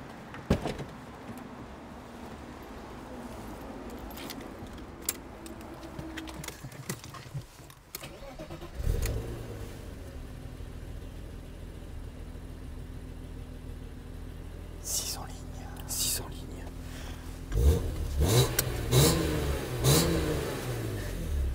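Mercedes E55 engine starting and revving in bursts, with power windows whirring and a door nearby, rising throaty roars toward the end, faint voices in the background.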